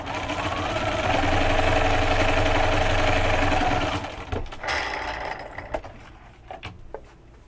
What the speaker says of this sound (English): I'm going to finish sewing these now.